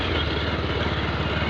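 A motorbike engine runs steadily and close by while the bike is ridden along, giving a continuous low, throbbing drone with no voices over it.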